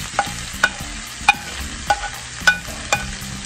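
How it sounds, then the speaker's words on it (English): Steak and vegetables stir-fried in a pan, with sharp regular spatula strikes and scrapes about every half second over a low background sizzle. "Now add in the vegetables."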